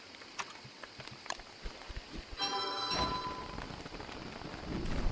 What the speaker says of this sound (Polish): Kurde, deszcz oczywiście.